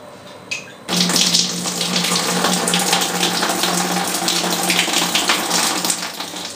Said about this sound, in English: I'm going to pour the wort in